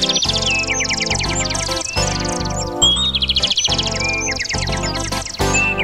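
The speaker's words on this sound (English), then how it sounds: "The bird is right up there." A bird chirps and tweets in quick, bright repeated phrases, set over loud music in a children's television show.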